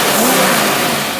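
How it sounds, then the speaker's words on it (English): A Predator small engine with a carburetor revs hard with no load, giving a loud, close, steady high-pitched drone for about a second. "first we're going to rev her up without a load"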